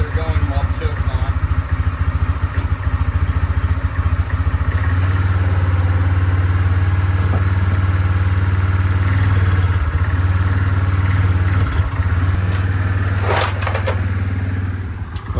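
A Yamaha Kodiak 400 ATV engine runs steadily with the choke on, a loud, continuous low idle with some clatter and rough spots; a person talks over it at times.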